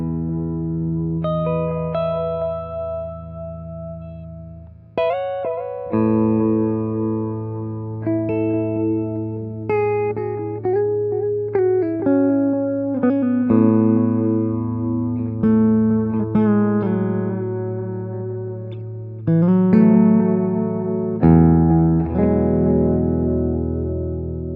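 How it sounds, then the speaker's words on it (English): An electric guitar plays through a Keeley Mag Echo effects pedal, picked notes and chords ringing out with echo repeats and reverb tails, loud and close, with no talking throughout. "One of my favorites for sure is the Mag Echo, which is one of the ones that I'm playing on, or I was playing on."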